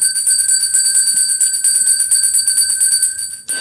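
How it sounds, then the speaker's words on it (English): A bell, likely a small singing or meditation bell, rings with sustained bright ringing tones that hold steadily and loudly throughout, cutting off near the end, with no talk. "I'm just going to ring that bell"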